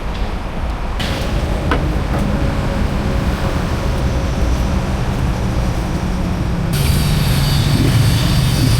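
A Yamaha 125ZR two-stroke motorcycle with a standard exhaust runs with a steady, loud engine drone and rumble. Its pitch and intensity rise toward the end, as if the throttle is being opened.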